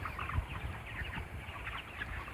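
Broiler chickens in a coop give a steady mix of soft, overlapping clucks and murmurs from many birds at close range, with no voices.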